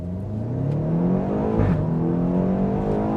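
A BMW X6M with an 8-speed ZF automatic accelerates at full throttle, its engine pitch climbing steadily with a quick shift partway through, heard loud from inside the car.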